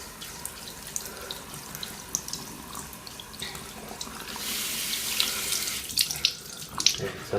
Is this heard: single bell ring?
no